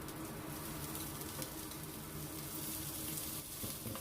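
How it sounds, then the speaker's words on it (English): Cooked rice for shrimp fried rice fries in oil in a pan, giving a steady, moderately quiet sizzle that carries on evenly throughout with no talking. "In the same pan, add an oil, then the cooked rice."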